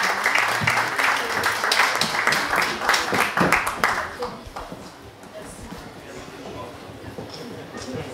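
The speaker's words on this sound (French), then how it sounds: "On l'applaudit." An audience at a panel discussion on Tibet breaks into dense, loud applause for about four seconds, then the clapping thins out and fades under a voice talking.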